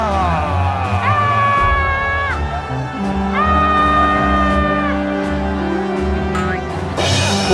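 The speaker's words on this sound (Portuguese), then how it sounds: "Todos começaram a gritar." A crowd shouts loudly together at the walls of Jericho in a dramatized Bible story, with sustained, overlapping voices rising and falling over several seconds and a burst near the end.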